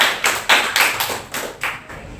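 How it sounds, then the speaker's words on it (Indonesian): A small group claps briefly, about eight uneven claps over two seconds, fading at the end, no talking. "tepuk tangan."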